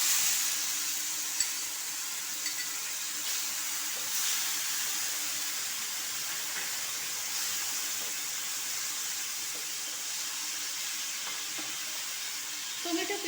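Tomato puree frying in hot oil with reddened cumin seeds for a homestyle vegetarian aloo dum, giving a steady, soft sizzle and hiss that runs unbroken throughout, close and fairly quiet, with no talking.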